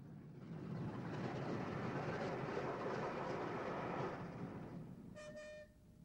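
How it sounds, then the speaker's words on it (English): A Doncaster-built V2 class steam locomotive, number 60850, hauls an express freight past at Retford in the 1960s, a loud sustained roar of wheels and wagons rolling by, ending with a brief whistle toot as the train draws away. "Overtaking us is Doncaster V2 class number 60850 on an express freight"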